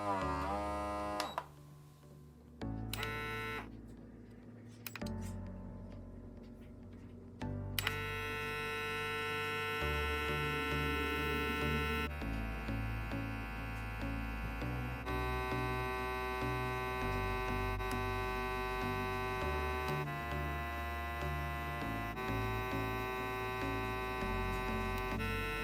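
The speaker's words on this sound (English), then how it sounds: "I'm going to turn it on and show you that the suction is really good on it." Trophy Skin MicrodermMD at-home microdermabrasion device switched on with suction running, giving a loud, steady electric hum with buzzy overtones that settles into a continuous drone, with no talking.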